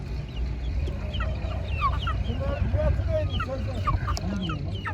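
Village hens and chicks cluck and chirp repeatedly at a busy poultry market in Ankara, with a low crowd murmur underneath.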